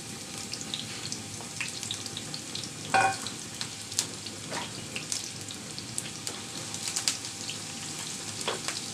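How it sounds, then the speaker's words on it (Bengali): Chopped onion frying in oil for tempering beef halim, a steady close sizzle running throughout with a few sharp crackles and pops, no voices. "বাগার দেওয়ার জন্য আমি পরিমাণ মতো তেল দিয়ে দিয়েছি পেঁয়াজ কুচি"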